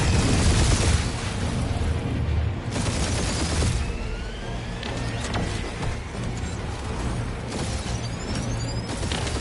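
Rumbling explosions and booming gunfire from a barrage in the Guardians of the Galaxy video game, a dense, continuous roar of blasts with heavy low rumble throughout and no talking.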